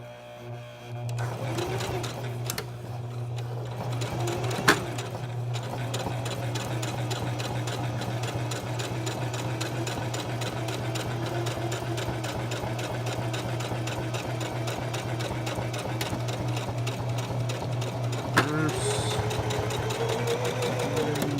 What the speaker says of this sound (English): we completed the stitch along the top edge of the first side